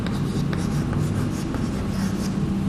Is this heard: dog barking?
no